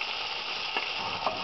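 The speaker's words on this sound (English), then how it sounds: "We will keep on frying the onions till they become a bit transparent" Steady, dense sizzling of food frying in a pan, a constant hiss with a couple of faint clicks, close and unbroken.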